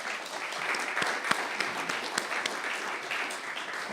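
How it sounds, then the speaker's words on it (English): A town hall audience applauds steadily, dense clapping holding at an even level for several seconds. "let's give them a round of applause"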